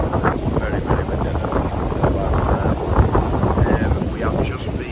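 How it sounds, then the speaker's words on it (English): Strong wind buffets the microphone outdoors in Mexico, a steady broadband rumble and roar running the full length with gusts swelling and easing, while a voice speaks faintly underneath. "It's very windy."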